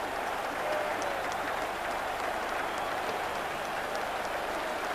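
A Serie A football stadium crowd applauds after a headed goal in an Italian league match involving Genoa, a steady, far-off wash of clapping and crowd roar that holds evenly throughout without clear speech.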